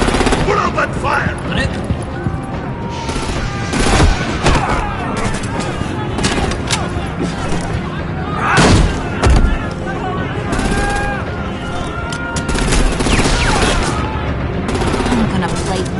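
Dense enemy gunfire in a Batman video game: rapid automatic bursts and booms overlapping continuously at high volume, mixed with shouting voices.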